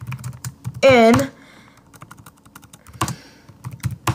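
Quick clatter of keys on a computer keyboard, close and steady, with someone speaking briefly over the start and a short rising beep partway through.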